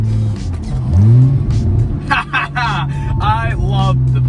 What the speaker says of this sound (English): Now here comes the real downshift.